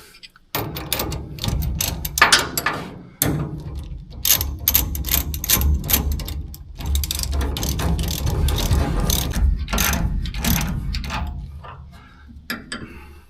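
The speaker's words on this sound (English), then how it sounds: "I'm going to go ahead and tighten this last little bolt here" Hand ratchet tightening a bolt on a 1968 Chevrolet C10 truck, a close run of rapid clicking pawl strokes in bursts with short pauses between pulls.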